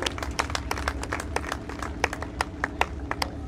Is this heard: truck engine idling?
no